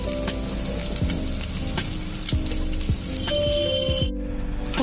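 Nigella seeds crackle and sizzle in hot oil left over from frying cauliflower for a potato and cauliflower curry, a steady close frying hiss that cuts off abruptly near the end.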